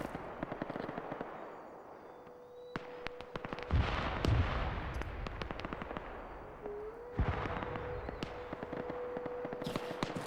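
A military shooter game fills with gunfire as a DMS-scoped rifle fires sharp, distant shots. Irregular cracks and rapid bursts come through, along with a low engine-like hum and a sustained tone. No one speaks.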